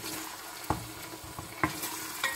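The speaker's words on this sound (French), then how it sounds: "On remet au feu. On mélange le tout." Kefta soup with tomato paste being stirred in a pot over the heat, with a few distinct spoon scrapes and clinks over a faint steady simmer, close and fairly quiet.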